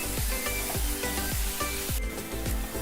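Onions sauté in a pan with cloves and cinnamon for paneer masala, sizzling steadily up close while a spoon scrapes and stirs through them at a regular, rhythmic pace.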